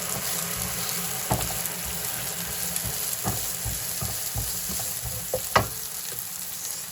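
Sliced onion and red capsicum fry in a pan on high heat, a steady close sizzle broken by a few sharp knocks and scrapes of stirring.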